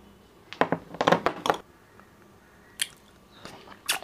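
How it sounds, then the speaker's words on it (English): Close crunchy bites into a strawberry and chocolate lollipop come in a cluster of sharp cracks, followed by a pause and then a few more bites and chewing sounds. "So guys, let's try this two flavored lollipop,"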